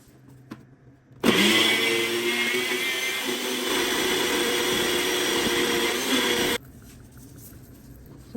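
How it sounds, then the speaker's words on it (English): A Ninja Dual blender switches on sharply and runs at a loud, steady whir, shifting slightly in pitch partway through before cutting off abruptly, with quiet background before and after. "So the Ninja Dual Mixer comes with this Auto IQ comes with 2 cups."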